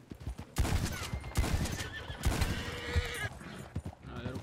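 A horse in the video game Red Dead Redemption 2 whinnies loudly and close, over hurried galloping hooves and scattered distant gunfire.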